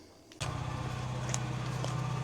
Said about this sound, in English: So that sound you hear is the generator idling.